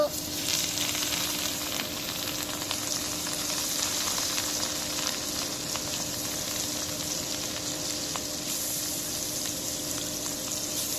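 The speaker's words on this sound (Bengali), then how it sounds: "তেল গরম হয়ে গেছে, এখন মাছ দিয়ে দিব।" Rui fish frying in hot oil gives a dense, continuous sizzle and crackle, close and loud, with a steady hiss that barely changes across the whole stretch and no voices.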